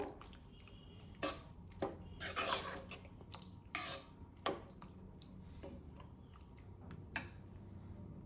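A spoon stirs snake gourd kootu with a lentil mixture in a cooking pot, giving faint, scattered clinks against the metal and soft wet squelches in a quiet kitchen, with no talking.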